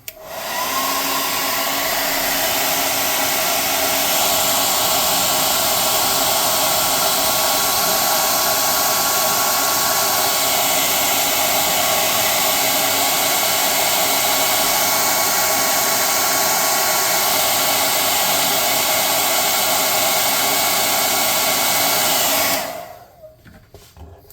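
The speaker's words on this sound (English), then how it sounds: "I'm going to hit those eyes with the airbrush or hot air gun." Hot air gun blowing steadily on painted eyes of a model mechanical kraken, a loud continuous rushing hiss for over twenty seconds before cutting off abruptly.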